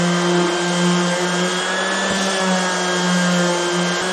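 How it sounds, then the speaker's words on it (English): An orbital sander hums in a steady, close, unbroken whine while smoothing the wooden slats of a homemade harvest market crate, with a couple of faint knocks as it moves over the wood. "I'm going to use an orbiting sander here"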